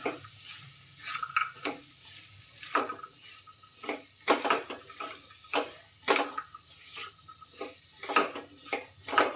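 A spatula scrapes and stirs broad bean pods with crushed peanuts in a hot pan, giving repeated quick strokes over a soft sizzle, close up, with no voices.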